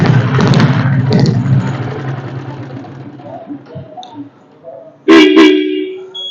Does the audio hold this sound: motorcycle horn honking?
yes